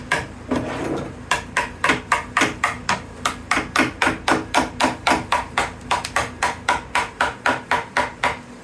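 Steady, loud hammer blows knock molds apart, stuck together with sticky glue down the center, a long regular series of sharp strikes at about three per second with a faint hum underneath.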